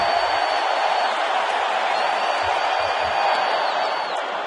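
A baseball stadium crowd at an NLDS playoff game keeps up a steady, dense roar of cheering and noise, loud and unbroken throughout with no distinct peaks.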